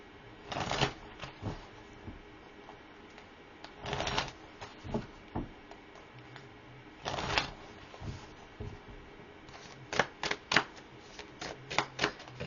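A deck of tarot cards is shuffled nearby in bursts, with separate riffling flurries and light taps between them, ending in a rapid series of quick snaps, with no voices.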